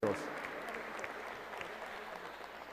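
Audience applause at a Peruvian national oratory contest for 17 young contestants, dense steady clapping from a crowd filling the room, strongest at the start and holding evenly throughout.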